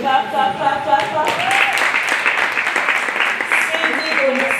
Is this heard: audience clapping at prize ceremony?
yes